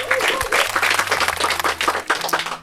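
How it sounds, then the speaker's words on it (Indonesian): A stand-up comedy audience applauds, a dense, even burst of clapping filling the whole few seconds at strong level, with a faint tone humming underneath. "tepuk tangan boleh?"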